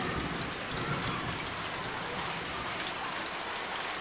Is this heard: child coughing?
no